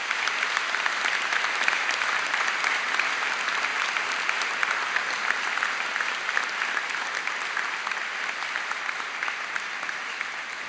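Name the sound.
graduates applauding their family and friends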